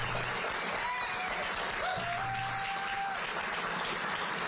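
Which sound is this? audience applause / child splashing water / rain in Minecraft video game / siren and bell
audience applause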